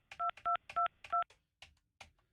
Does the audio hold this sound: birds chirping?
no